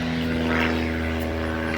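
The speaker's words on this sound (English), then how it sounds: "There's a helicopter." A steady, droning rotor hum of a helicopter overhead, constant and moderately loud, with no talking.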